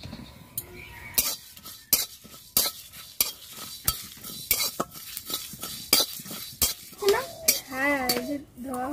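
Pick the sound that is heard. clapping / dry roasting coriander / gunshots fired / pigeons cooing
dry roasting coriander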